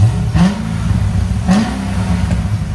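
A cammed Chevy Corvette Z06 with a 7.0L V8, headers and a choked exhaust idles loudly with a lopey rumble, broken by two sharp revs that rise and fall, heard close with no talking.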